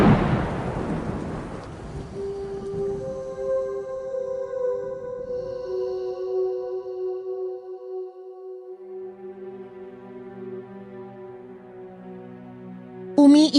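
A loud thunder crash rolls in at the start over steady rain, then fades while sustained tonal music rises and holds beneath the storm, with a sharp burst at the very end.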